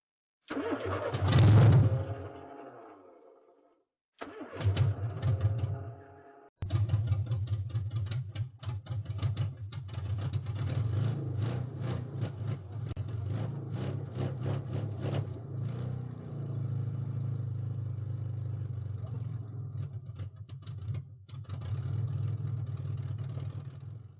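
A classic Mini's 1275 engine with a manual gearbox cranks in short bursts, catches and settles into a loud, rough, throbbing idle close by, with a few brief gaps and blips and no talk.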